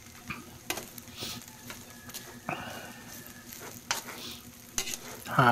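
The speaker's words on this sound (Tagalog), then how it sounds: "Halo-halo uli hanggang maluto. Yan o. Ayun, patuyo na ang adobo." Adobo with an egg fries in a pan, and the soft sizzle runs under several scraping stirs and clinks of a utensil against the pan, all close by.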